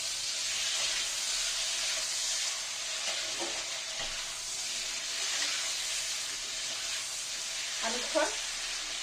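Chopped tomatoes frying with softened onions in a pan for a village-style fish dish give a steady, fairly quiet sizzling hiss, broken by a few soft stirring or clinking sounds near the end.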